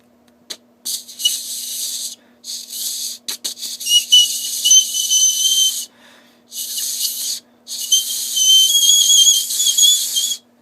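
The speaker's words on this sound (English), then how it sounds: "I can get a pretty loud whistle out of it." Loud, shrill whistle blown on a homemade bone flute carved from a turkey leg, sounding in several sustained bursts separated by short breath pauses, close to the listener and alone.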